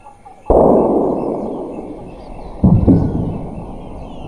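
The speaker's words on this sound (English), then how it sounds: "The sound of gunfire." Gunfire recorded in a rainforest by a remote monitoring device: two loud shots roughly two seconds apart, each with a long rolling echo decaying through the forest.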